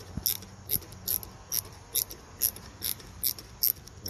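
A wrench spins nuts down onto Mustang front seat extender studs, giving a regular series of sharp, close ratcheting clicks in bursts about every half second, with no speech.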